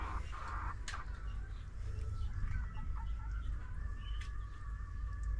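Chickens cluck and call softly amid steady low background noise, with a couple of brief sharper bird chirps standing out.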